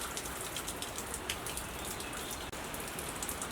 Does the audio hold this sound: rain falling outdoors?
yes